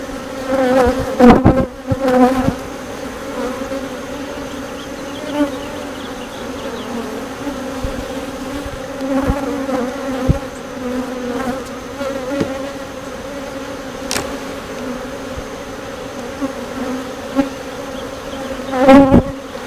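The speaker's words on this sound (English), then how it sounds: "These bees are relatively calm." Honeybees buzz around an open backyard hive during a humid early-July inspection, a loud, steady, close drone that runs throughout, with scattered sharp clicks and handling knocks from the frames.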